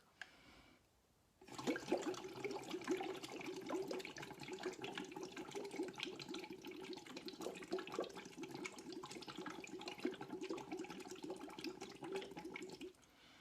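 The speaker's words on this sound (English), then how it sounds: "is to blow bubbles into that glass of water, is another way to more gently create resistance" Bubbles blown through a straw into a glass of water as a gentle breathing-resistance exercise, a steady close gurgling and bubbling that starts after a brief pause and runs continuously for about eleven seconds before stopping.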